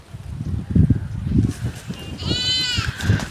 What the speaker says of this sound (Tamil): இங்கே ஒரு 3 ஆட்டுக்குட்டி வச்சுருக்காங்க.